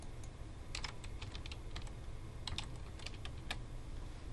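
Steady, close-up clicking of keys on a computer keyboard as a command is typed into CAD software, the keystrokes coming in quick irregular bursts over a low background hum, with no talking.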